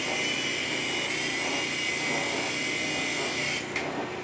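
A LiteHawk II remote-control helicopter flying indoors: a steady, close, high-pitched whine of small rotors and motor, droning evenly throughout with a brief tick near the end.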